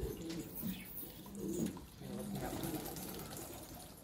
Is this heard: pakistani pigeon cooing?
yes